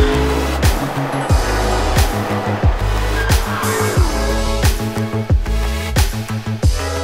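A Lamborghini Urus SUV cruising through Italian streets, its engine swelling and dropping through repeated revving pulls and gear changes, loud and close, with a rhythmic series of throttle surges.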